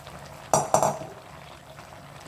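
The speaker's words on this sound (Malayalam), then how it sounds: "നല്ലവണ്ണം ഒന്ന് ഇളക്കി പിടിപ്പിക്കാം" Fried onions stirred into pepper chicken in a pan, a couple of quick clinks and scrapes of a spoon against metal over a low simmering hiss, brief and close.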